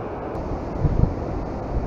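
Steady wind on a boat while pike fishing roars and rumbles against the microphone in a low broadband wash, with a couple of brief stronger gusts midway.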